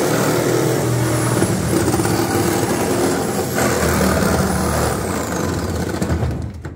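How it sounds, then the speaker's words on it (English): A Sawzall reciprocating saw cuts through rusted bolts on a Toyota T100 truck bed with a loud, sustained buzzing drone close by. The drone holds steady with slight surges, then drops off at the end. "Now I'm going to try and cut through with the Sawzall."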